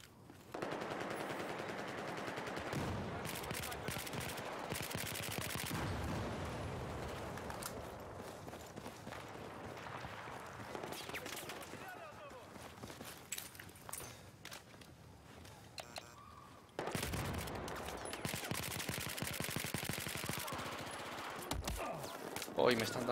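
Automatic and single-shot gunfire from the video game Battlefield 4 at Lancang Dam, repeated bursts and cracks with footsteps, mixed with a player talking over the game audio.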